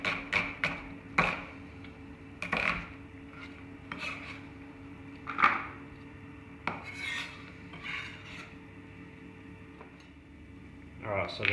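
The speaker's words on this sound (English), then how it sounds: "we just slice up the brown onion just in slices like this." A knife slicing a brown onion on a cutting board, a series of crisp chopping strokes at an irregular pace, some in quick pairs, with a person talking over them.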